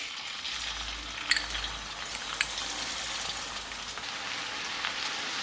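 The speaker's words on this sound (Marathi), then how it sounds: "तेल गरम झालंय, त्यामध्ये मी कांदा घालते." Chopped onion sizzles in two spoons of hot oil on an iron tawa over a gas flame, a steady close hiss of frying with a few small pops near the start and no talking.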